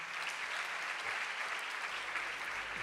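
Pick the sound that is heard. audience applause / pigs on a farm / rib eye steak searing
audience applause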